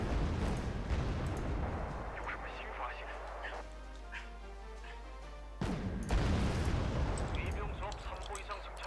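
Cluster bomb explosions in the Wargame Red Dragon video game: rumbling artillery-like blasts and crackling bursts, fairly quiet and distant, with a brief lull before a fresh burst of impacts, while a voice talks over them.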